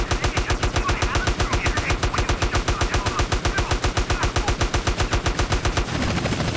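Rapid automatic fire from an assault rifle in a VR shooter, a long steady burst of evenly spaced loud shots ringing close for about six seconds before cutting off into a brief rumble.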